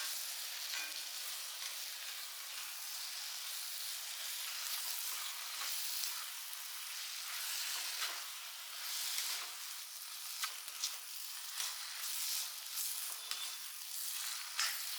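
Chicken masala sizzles steadily in a pan as turmeric, chilli and coriander powders are sautéed in, a continuous bright frying hiss with faint scraping from stirring, close and even throughout.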